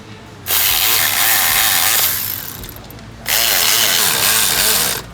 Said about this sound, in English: I don't know what it is about these electric tools, but they don't like working upside down.